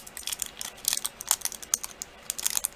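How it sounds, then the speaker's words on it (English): Angelina film for polymer clay being crumpled by hand, a dense run of crisp, crackly rustles and crinkles in close, uneven bursts, with no talking. "if you think there's an area that isn't crumpled enough, right through here, just crumple it again."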